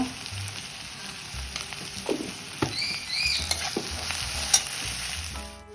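Onions and cumin frying in a pan for piyaji kachori crackle and sizzle steadily, with scattered stirring taps and small squeaky scrapes, close and without voices.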